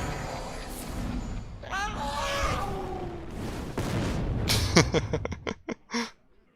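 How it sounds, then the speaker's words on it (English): An Arcane Explosion spell goes off in a video game, a booming magical blast with whooshing rising tones followed by a string of sharp crackling bursts, loud and close over game sound. "Oh, we do get the Arcane Explosion though."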